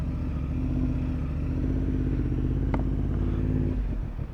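A Honda CB750 motorcycle pulls away at night, its engine a steady loud rumble close by with a rising rev and a brief clatter near the end, no voices over it.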